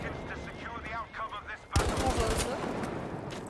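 Gunfire from an StG assault rifle in the Battlefield V video game bursts in abruptly partway through, a loud, close rattle of rapid shots following softer speech.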